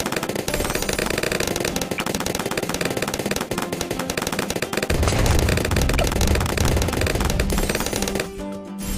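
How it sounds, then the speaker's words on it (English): Laser bombs firing in the Bloons TD6 tower defence game, a dense, continuous barrage of rapid shots and bursts that grows heavier partway through and cuts off abruptly near the end, with no talk. "Laser bombs."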